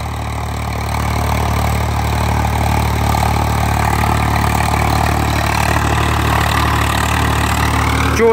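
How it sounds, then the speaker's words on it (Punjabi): Swaraj 855 FE tractor engine in first high gear runs with a loud, steady, low diesel drone, close by and unbroken, with no voices. "ਪਹਿਲੇ ਹਾਈ 'ਚ ਚੱਲੇਦਾ ਟਰੈਕਟਰ ਨਾ"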